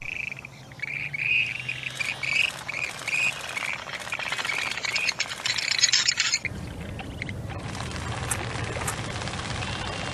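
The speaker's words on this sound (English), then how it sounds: "This is the western grebe, and these birds have a super unique mating dance." Western grebes give shrill, rattling calls during their mating dance, mixed with other bird chirps outdoors, and a sudden shift to broader noise near the end.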